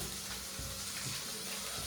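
Water is poured into a pan of masala while making ragda, a faint, steady, continuous trickle with no talk.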